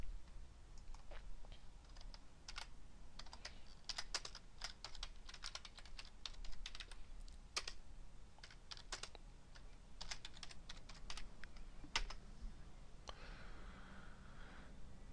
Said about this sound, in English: Type your title.